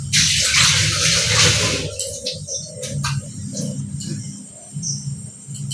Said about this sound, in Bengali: আমি একটু হাতটা ধুই